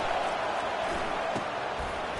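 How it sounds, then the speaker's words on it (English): Steady crowd roar filling a college football stadium during an NCAA Division I game, a continuous broadband wash of voices with a few brief swells, loud and sustained throughout. "The roar of the crowd trying to fuel this defense to keep them pinned in their own end."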